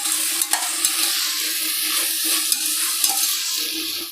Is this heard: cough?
no